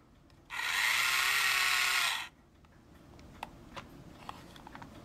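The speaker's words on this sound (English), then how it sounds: "So here we go with our toy drill." A small toy drill whines loudly for under two seconds while reaming holes in a model ship, then cuts off, followed by faint scraping and a few light clicks.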